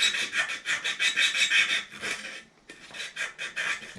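Hand sanding of a myrtle wood beard comb produces rapid, rhythmic rasping strokes, about three per second, close and steady, with a brief pause before the scraping resumes.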